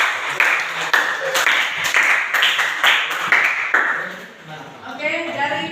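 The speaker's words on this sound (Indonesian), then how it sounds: "Tepuk tangan dulu untuk kelompok 1" Classroom applause for a student group after a math presentation on linear equations, several sharp claps in a short burst, close and somewhat tonal, with voices talking through it.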